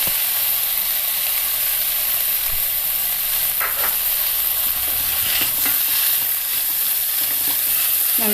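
Chopped tomatoes hitting hot oil in a bean masala curry, a loud continuous sizzle and hiss with occasional spoon scrapes as they are stirred in, close and unbroken throughout.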